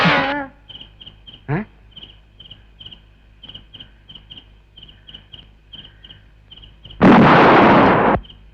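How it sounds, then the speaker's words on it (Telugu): An amplifier blows up as a movie sound effect: one loud, harsh burst of about a second near the end, over a quiet background of steady insect chirping, with no speech. "యాంప్లిఫైర్ పేలినట్టుంది లోన."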